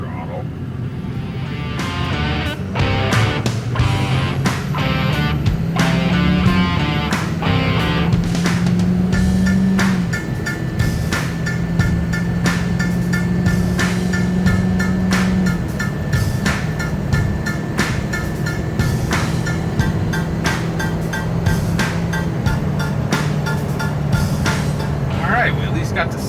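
A Ford 6.0 Powerstroke diesel pickup accelerates from a stop at half throttle, its engine note climbing in stages across gear changes, with a steady drone, cabin rattles and clicks underneath.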